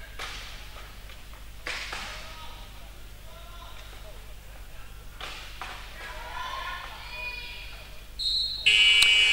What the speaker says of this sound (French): Au buzzer, hein.